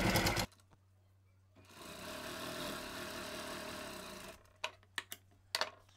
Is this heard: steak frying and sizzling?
no